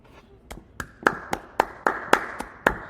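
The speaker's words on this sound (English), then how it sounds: "that's all we can do is clap" A pair of hands claps about ten times at a slightly uneven, steady pace, each sharp clap close and distinct, with no voices.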